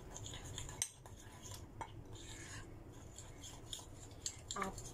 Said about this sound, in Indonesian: Aduk sampai merata ya.